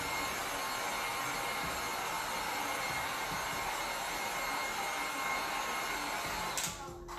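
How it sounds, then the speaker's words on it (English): Heat gun blowing steadily over freshly poured resin to pop surface bubbles, a continuous close airy roar that cuts off at the very end. "I just want to pop any little bubbles that I have on top. That's what the heat gun is for."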